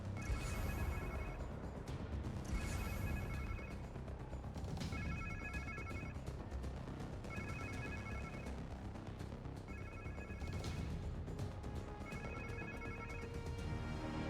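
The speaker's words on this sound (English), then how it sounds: "Sounds like somebody's phone." A phone rings in the Spider-Man 2 video game, sounding in repeated bursts of electronic ringing over a loud, busy game soundscape with low rumble throughout.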